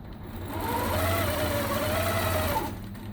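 Longarm quilting machine stitching along a seam ditch, a steady mid-pitched mechanical hum with a faint rising and falling whine, running continuously for a few seconds before cutting out near the end.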